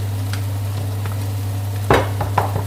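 Chicken mafe sizzles in a pan while being stirred until the liquid cooks down. A steady frying hiss runs throughout, broken by a few sharp scraping stirs near the end, with no talking.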